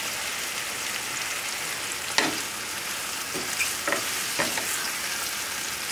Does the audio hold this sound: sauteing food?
yes